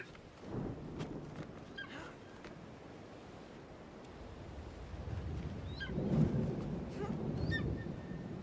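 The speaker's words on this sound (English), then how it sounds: "Lightning and thunder." Rolling thunder from a thunderstorm in the video game Assassin's Creed Shadows builds into a low, swelling rumble over windy ambience, with no voices.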